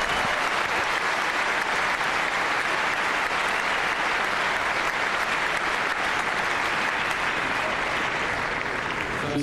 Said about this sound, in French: Applaudi par James Blake.